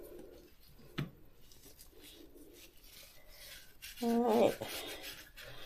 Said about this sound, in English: So I'll just go ahead and wipe down on the inside here.